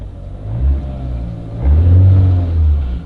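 General Motors car engine revving as the accelerator pedal is pressed: two swelling low rumbling revs, the second longer and stronger, heard close with no talk.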